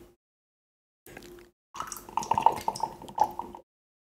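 Strawberry drink splashes and drips out of a small hole in a twist-open container in short bursts, with gurgling plops after a brief pause, close by.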